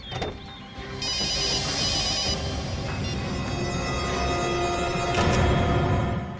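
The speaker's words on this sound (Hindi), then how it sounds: "सर फोन बंद करते ही घंटी भी बंद हो गई सर" A mobile phone rings steadily with an electronic trilling tone, fairly close, over a low background hum, with no voices.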